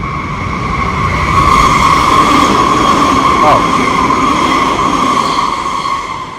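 A train rolls past on tracks overhead in Japan, a loud, sustained rumble with a ringing metallic whine that swells after the first second and stays strong before easing slightly at the end.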